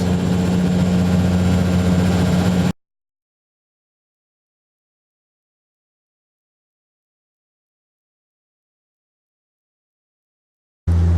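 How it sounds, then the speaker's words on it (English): A Bombardier Dash Q400 turboprop's engines drone in the cabin during the climb after takeoff, a steady low hum with a strong tonal band, heard for a few seconds before cutting to silence and briefly returning at the end. "we've finally taken off. It's taken 20 minutes to taxi and take off from this airport."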